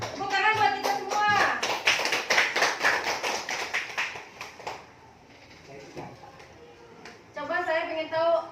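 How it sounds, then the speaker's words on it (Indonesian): A classroom group claps hands in a quick rhythmic patter, then stops briefly before clapping again near the end, with children's voices mixed in between the bursts. "Tepuk tangan buat kita semua."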